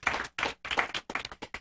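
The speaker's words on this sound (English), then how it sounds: "I just want to give you all a round of applause" Audience at a Kiwanis conference on early childhood applauds, a dense round of clapping in several bursts with brief pauses between them, fairly close and without talk.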